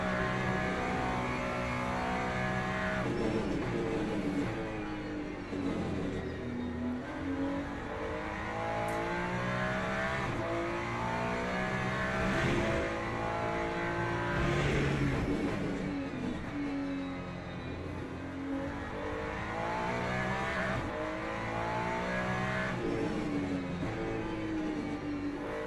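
A Ferrari race car engine in Le Mans Ultimate at Portimao revs up and down through the gears, a continuous droning whine rising and falling lap-style, steady and close throughout.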